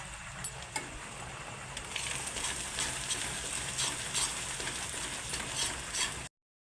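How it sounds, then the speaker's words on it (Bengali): Ground chili, cumin and coriander are stirred in a frying pan while chicken curry cooks. A quiet sizzle runs under scraping and clinking from the utensil, and it gets a little busier partway through. "লঙ্কার গুঁড়ো, জিরের গুঁড়ো আর ধনিয়া গুঁড়ো দিয়ে একটু ভালো করে আবার নেড়ে নেব"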